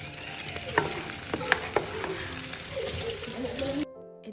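Eight eggs are scrambled in a hot pan for fried rice: a continuous sizzle with sharp spatula clicks and scrapes near the start, a softer stirring hiss later, then an abrupt cut to near silence.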